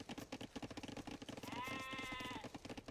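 Sheep bleat in Age of Empires II, one clear drawn-out bleat standing out mid-clip over a busy bed of clicking game sounds and background music.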